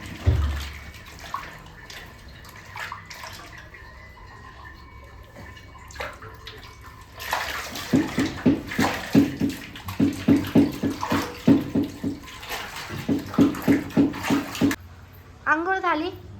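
Water runs and splashes steadily while a Persian cat is bathed at home, with voices talking over the flow in the later part.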